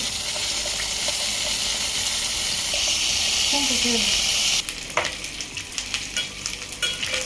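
Fish for a tangy gongura curry fries in a pan with a dense, steady sizzle, then the sound breaks up into uneven spits, clatters and stirring noises after a few seconds.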